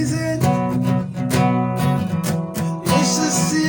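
Acoustic guitar strumming the verse chords, loud and close with a steady rhythmic down-up pattern of full, bright chords and no voice.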